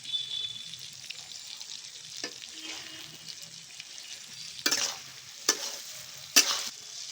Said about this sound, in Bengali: আমটা হালকা ভাজা হয়ে গেছে